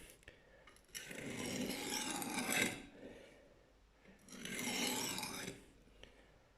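A knife blade is drawn across a Lansky sharpening stone in two long, gritty rasping strokes separated by a short pause, close and fairly quiet.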